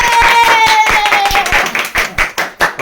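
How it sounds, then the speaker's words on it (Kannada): Several people clap for an award during a family Sankranti gathering, a steady burst of close hand claps that thins into separate, spaced claps toward the end. "ಚಪ್ಪಾಳೆ."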